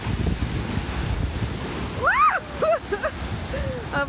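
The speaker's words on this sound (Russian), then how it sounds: "Бушующий океан." Crashing stormy ocean surf at the Havana waterfront in Cuba roars in a steady wash, and a few high, warbling calls rise above it partway through.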